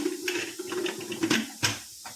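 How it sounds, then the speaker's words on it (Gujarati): A pressure cooker lid is shut over an eggplant and potato curry, giving a couple of sharp, close clicks and clacks against a faint kitchen background. "કુકર બંધ કરી દઈશું।"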